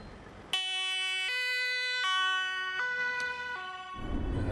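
Dutch ambulance siren wailing near and loud in a steady two-tone pattern, alternating high and low pitches for several seconds before traffic noise takes over.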